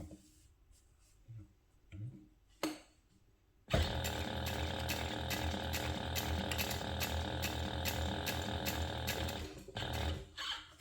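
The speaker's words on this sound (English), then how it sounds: "baste it in place using a 1/4 inch seam allowance" A domestic sewing machine bastes a bag strap tab with a 1/4 inch seam, starting with a few short handling clicks before a steady, close mechanical whir runs for about six seconds and then stops.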